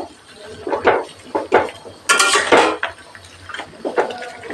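A utensil stirs pumpkin leaves, stems and fried bori lentil dumplings together in a cooking pan, giving irregular close clanks and scrapes with short pauses between strokes.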